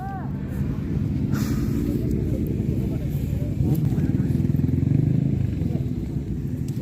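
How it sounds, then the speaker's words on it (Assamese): A Suzuki Hayabusa superbike passes at a falcon festival, its engine a broad steady roar that swells toward the middle. Crowd noise and voices run underneath. "দেখিছে না মাত কেনেকুৱা, দেখিছে না হায়াবুছা গৈছে এফালে।"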